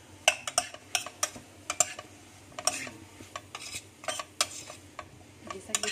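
Onion and shredded dried fish sautéing in a pan, heard as a string of sharp spatula clacks and scrapes against the metal over a faint, low sizzle, close and without speech.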